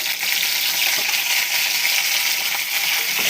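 Fish and cauliflower fry in oil in a pan, producing a loud, continuous close-up sizzle with faint scraping and stirring underneath.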